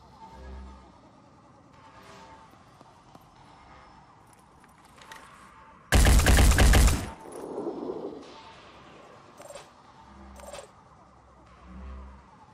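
A short loud burst of machine gun fire rips out in Phoenix Point, about a second of dense rapid shots. Quieter game clicks and whooshes come before and after it, and a voice talks around it.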